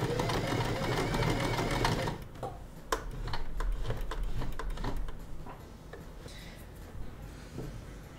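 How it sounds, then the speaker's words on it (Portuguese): Janome sewing machine stitching a button on, a fast rapid-fire mechanical whir for about two seconds, then slower isolated clicks and ticks as the needle is lowered and the work adjusted. "Agora vamos costurar a parte de baixo para que o botão fique bem presinho."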